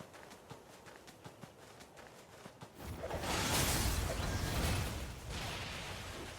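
Horse hooves clip-clop in NieR: Automata, a light rhythmic patter that swells into a louder rushing gallop partway through and stays fairly close with no talk.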